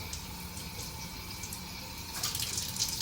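Coriander leaves being washed under a running tap, a steady wash of flowing water splashing continuously and growing slightly louder near the end, with no talking.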